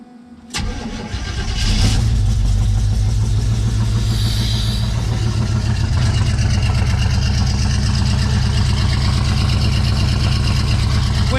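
A Pontiac Firebird V8 cranks over and catches, settling into a loud, steady rumbling idle that carries on for the rest of the clip.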